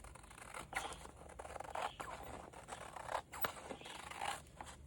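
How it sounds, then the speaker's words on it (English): Scissors trim the edge off an oversized paper page at a craft table, giving a quiet, close series of crisp snips and light papery scrapes in an uneven rhythm. "I'm just going to use my scissors here."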